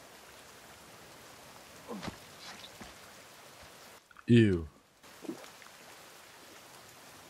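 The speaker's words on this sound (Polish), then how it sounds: "O właśnie, teraz pada." Rain falls in the survival video game The Forest, a soft, steady hiss of drops that runs throughout, briefly interrupted by a short vocal exclamation.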